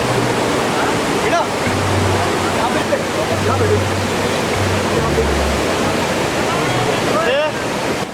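Loud, continuous roar of Dudhsagar waterfall in Goa, a 310-metre drop, a dense rushing wash of water with no breaks.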